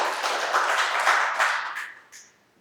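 A recording of a crowd clapping plays at a community mesh-network meetup: dense, steady applause that holds for about two seconds, then thins out and fades away, with one last small burst near the end.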